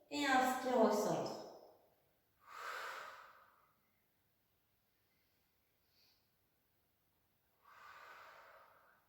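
Forceful breaths out and in during a Swiss ball strengthening exercise: a long exhale, then a shorter breath, a pause and a softer final breath, all close and alone.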